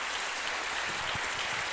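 A church congregation applauds during a sermon, a faint, steady wash of clapping heard from a distance for a brief moment.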